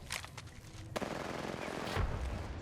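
Automatic gunfire in the battle-royale shooter Apex Legends, a burst of rapid shots followed by a loud sustained volley, close and intense, with no talk.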